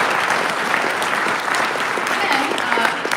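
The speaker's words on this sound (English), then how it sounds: "One round of applause" A convention crowd at a Hasbro toy reveals panel breaks into sustained applause, a thick, even roar of clapping with a few voices faintly threaded through near the end.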